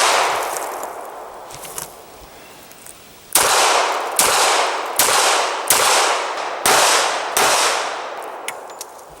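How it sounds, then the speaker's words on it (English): Rapid series of loud gunshots fired at a target at close range, about six sharp blasts spaced roughly half a second to a second apart, each with a ringing decay, after fainter distant cracks. "Let's just shoot that guy right there."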